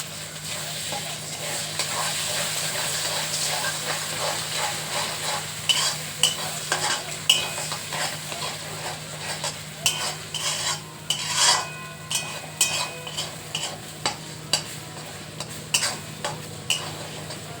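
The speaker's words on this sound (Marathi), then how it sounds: "आता ह्याच्यामध्ये आपण फक्त मीठ आणि कोथिंबीर टाकूया आणि थोडं भुर्जी परतवून घेऊ." Egg bhurji being stir-fried in a pan with salt and coriander, a steady sizzle under repeated scraping and stirring strokes of a spatula against the pan, close and continuous.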